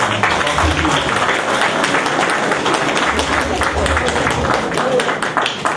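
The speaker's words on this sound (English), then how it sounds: "Let us give him another hand of applause." Loud, full audience applause after an academic speaker, many hands clapping densely and steadily at close range for several seconds.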